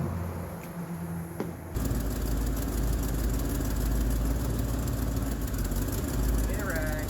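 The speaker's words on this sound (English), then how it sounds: "Start it, let it warm up, and then add some more once it's warmed up." The 454 V8 of a 1973 Chevrolet Cheyenne Super C10 pickup with transmission trouble rumbles at a steady idle after starting, loud and close, with a person speaking over it.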